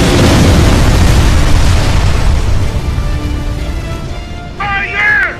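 A fuel tank blows up in Gears of War 3, a loud booming explosion with a long rumbling roar that slowly fades, followed by a brief shouted voice at the end.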